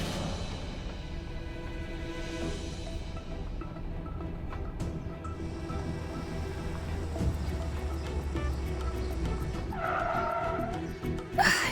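A car skids to a stop, its tires squealing in a long rising screech over engine noise, ending with a sharp burst near the close.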